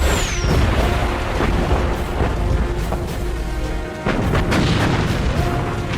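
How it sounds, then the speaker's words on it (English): Main guns of the German battleship Bismarck fire a salvo in the May 1941 battle against HMS Hood, heard as heavy, rumbling booms that roll on continuously and loudly with no voices. "Bismarck fires again"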